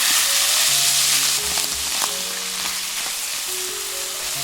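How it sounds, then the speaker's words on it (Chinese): Konjac noodles hit a hot wok and sizzle loudly alongside black wood ear mushrooms, with a steady, close frying hiss broken by light scraping stir strokes. "再下入魔芋丝，快速打散，防止粘锅。"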